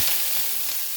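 Flat beans frying in hot oil in a pan, a loud, steady, dense sizzle with no talking over it for a brief moment.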